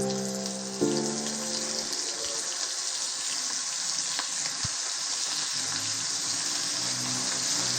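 Mutton kola urundai, small minced-meat balls, frying in hot oil, a constant close hiss and crackle of sizzling throughout, with a brief clink near the start.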